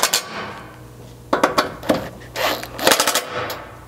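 A 3/16 driver snugging bolts on a gas tank skid plate under a Chevy Colorado, giving bursts of rapid rattling impacts and metallic clatter, close and loud over a steady low hum.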